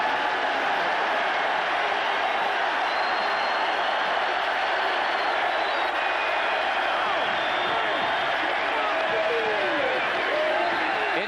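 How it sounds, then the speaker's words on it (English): Huge football stadium crowd at the Orange Bowl roars in a dense, continuous wash of cheering and whoops, loud and sustained, with faint broadcast talk mixed in. "And the largest crowd ever at the Orange Bowl. The celebration is already underway."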